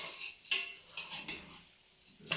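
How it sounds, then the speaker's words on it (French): Spatula turning rice in oil in a pan for jambalaya, a few soft scrapes and metallic clinks in an irregular rhythm, close and fairly quiet, with no talking. "Je vais donner un ou deux tours avec ma spatule."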